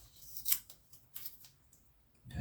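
A knife cuts through masking tape with a few quiet, short scraping rasps, spaced irregularly, up close in an otherwise quiet setting.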